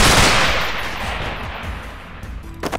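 Gunfire in the video game Underhell, a loud burst of shots at the start that fades into a rumbling decay, followed by a couple of sharper shots near the end.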